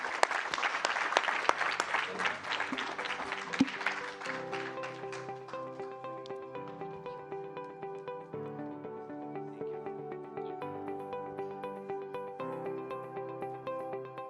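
An audience at a global metabolic health conference panel claps to thank the panelists, a brief burst of applause that thins out over about four seconds as gentle music takes over.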